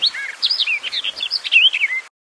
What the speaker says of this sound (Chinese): 原来是鸟妈妈正在喂小鸟吃虫子，小鸟很开心。